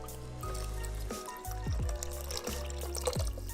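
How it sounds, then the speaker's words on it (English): Water poured from a cup into a pot of chili with canned chili beans, a steady close splashing fill with gurgling and a few drips, running continuously for a few seconds. "Add in 1 cup of water."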